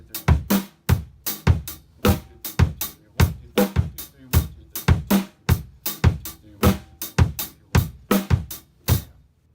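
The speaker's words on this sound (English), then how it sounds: "2 and 4 in the snare, and a group of 3 ostinato on the kick drum" Solo drum kit groove in 21/16 with steady eighth-note hi-hat, snare backbeats on 2 and 4, and a kick drum cycling a three-note ostinato, played close and dry with an even, looping rhythm and no talking.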